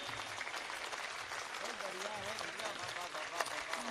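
Audience applause at a Hindi kavi sammelan poetry recital, a continuous, fairly faint patter of many hands with a voice faintly audible underneath.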